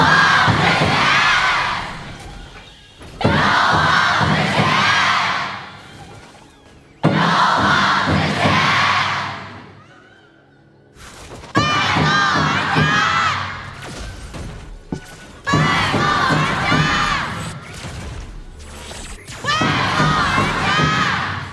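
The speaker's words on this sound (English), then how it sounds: "So let's hear the cheers for both of the teams." A large arena crowd at the KPL Grand Finals esports event roars and cheers for the competing teams in several loud surging waves, with brief lulls between bursts.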